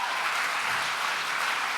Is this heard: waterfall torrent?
no